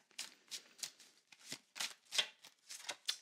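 A deck of cards being shuffled and pulled by hand, a close series of about a dozen crisp riffling bursts in a quick, uneven rhythm, with no talking.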